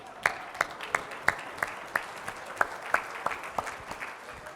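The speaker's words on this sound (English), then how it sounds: "now I want you to start clapping" A civic audience at a 2019 State of the City address claps in a loose, sparse rhythm, distinct hand claps ringing out one after another rather than a dense roar, steady and moderately near with no talking over it.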